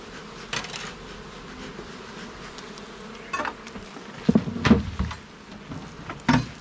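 Honeybees buzz around a hive nearby, with a few sharper taps and knocks rising over the low insect hum.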